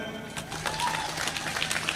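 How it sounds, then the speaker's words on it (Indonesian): An audience claps at a religious gathering in Jember, steady applause at moderate loudness running throughout with a busy, crowded texture and some faint background voices. "Tepuk tangan."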